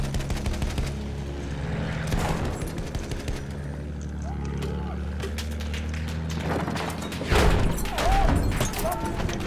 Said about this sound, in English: Whoa, that's two AA rockets.